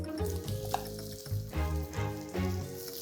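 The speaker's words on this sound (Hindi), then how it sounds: "तेल को थोड़ा सा ठंडा करके फिर इसमें फ्राई करेंगे हम अरबी" Chopped colocasia (arbi) fries in oil that has been cooled slightly, a close steady sizzle with crackles and stirring scrapes and clinks, with no voices.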